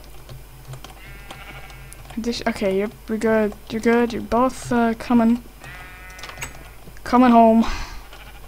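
Minecraft sheep bleat several times in a row while someone talks over them and keyboard keys click in the background.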